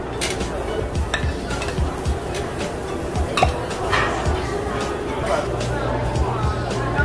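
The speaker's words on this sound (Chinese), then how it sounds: "我们来下骰子牛吧。" Diced beef cubes cooking on a grill at a rotating all-you-can-eat yakiniku restaurant, with scattered metallic clinks and scrapes of utensils against pans and dishes over a busy bed of background voices.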